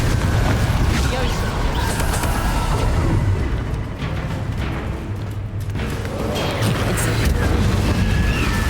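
Confringo blasting spell explosions in Hogwarts Legacy, loud booming blasts over a constant dense roar of game noise, repeated across the stretch.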